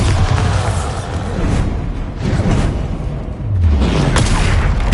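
Bombarda spell explosions from the video game Hogwarts Legacy on PS5 come as several heavy booming blasts with rumbling low-end tails, loud and close, rolling one into the next over a few seconds.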